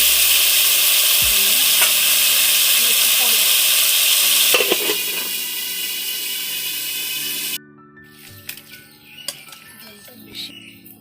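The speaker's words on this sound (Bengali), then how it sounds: "কড়াইয়ের মধ্যে আলু দিয়ে, তারপর আলু ভেজে নিচ্ছে লবণ দিয়ে।" Potatoes frying with salt in a wok give a steady, loud broadband sizzle for several seconds that drops to quieter scattered crackles and stirring knocks, with occasional nearby voices.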